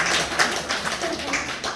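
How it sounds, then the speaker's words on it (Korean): An audience applauds during a health lecture by a psychiatry professor, a dense, steady wash of clapping lasting the whole moment at a fairly even loudness, with no voices standing out. "박수."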